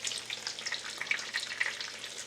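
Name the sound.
chicken cutlets frying in a pan for chicken parm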